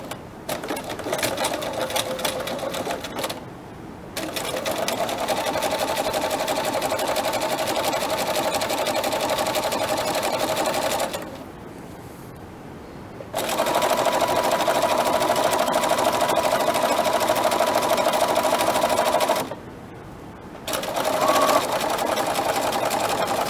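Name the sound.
sewing machine stitching a flat fell seam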